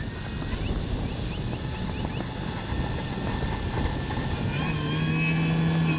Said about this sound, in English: Now let's try to take off and make a nice scale, slowly rising takeoff.